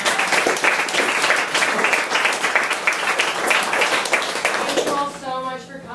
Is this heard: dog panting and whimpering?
no